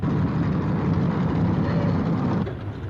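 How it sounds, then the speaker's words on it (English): A propeller airliner comes in on the main airport runway in a 1950 crime film, a steady, loud engine roar filling the scene and holding near before easing slightly at the end. "Another plane coming in on main runway."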